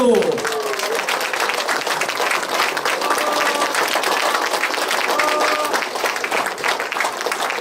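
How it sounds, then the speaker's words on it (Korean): An audience at a humanities lecture at a district cultural center claps loudly and continuously for several seconds as a speaker is welcomed. "박수!"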